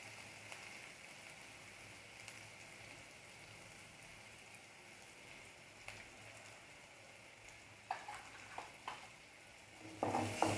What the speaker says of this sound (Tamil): எல்லாத்தையும் ஆட் பண்ணி நல்லா வதக்கணும்.